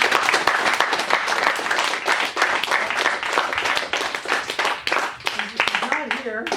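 Sustained audience applause at a closing ceremony and medal presentation, dense steady clapping from a crowd with some voices mixed in, tapering slightly toward the end.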